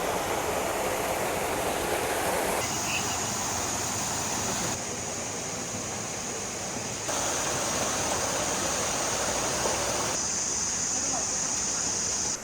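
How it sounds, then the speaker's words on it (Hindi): Mountain water rushes near Bhagsunag temple in Mcleodganj, a loud, steady broadband roar that holds for the whole stretch with a few level shifts, close by and without pause. "ऊपर से पहाड़ों से पानी आता है ये"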